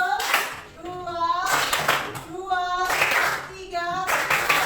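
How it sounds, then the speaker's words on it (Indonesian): A class of children claps hands together in a rhythmic pattern, bursts of claps repeating in a steady beat with children's voices mixed in. "Oke, tepuk tangan."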